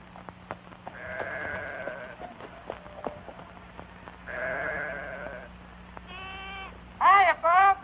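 Several sheep bleat at intervals over a quiet background hum, with the last two bleats louder and closer.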